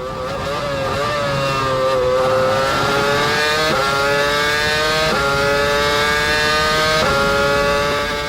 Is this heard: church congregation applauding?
no